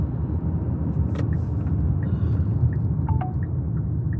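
Steady low road rumble of a moving car in heavy traffic, heard from inside the cabin, continuous and fairly loud with a few faint higher squeaks and clicks on top.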